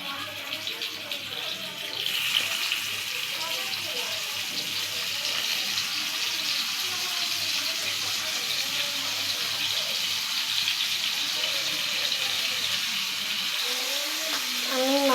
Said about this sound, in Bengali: আমি মাছগুলো এভাবে ভালো করে ভাজিয়ে নেব।